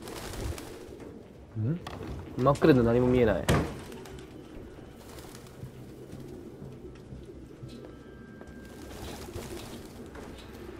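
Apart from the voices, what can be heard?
pigeons cooing in Detroit: Become Human video game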